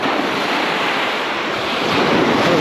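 Waves breaking at a shoreline where small fish gather, a loud, continuous wash of surf with wind noise on the microphone, steady throughout and no voices.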